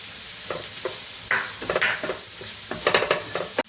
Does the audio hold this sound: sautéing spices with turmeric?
yes